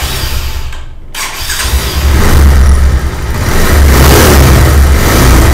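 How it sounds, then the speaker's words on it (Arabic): A motorcycle engine with an unbalanced balance gear starts with a loud crank and catches, then runs and revs roughly with a heavy, buzzing vibration close by. "ممكن كلنا نسمع صوت المحرك والزنه اللي موجوده فيه بالكامل"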